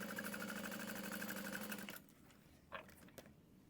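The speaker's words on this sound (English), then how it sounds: "we're going to sew that at 1/2 inch" A sewing machine runs steadily as it stitches a side panel seam at a half-inch allowance, a fast even whir that stops partway through, leaving faint handling clicks.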